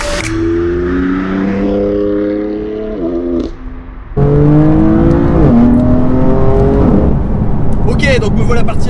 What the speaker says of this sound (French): me voilà parti à bord de cette BMW M4 GTS